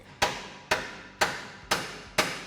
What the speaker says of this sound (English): Big hammer gun.